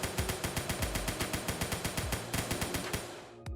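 Rapid automatic gunfire in an open world video game, a loud, steady burst of evenly spaced shots lasting about three seconds before it stops abruptly.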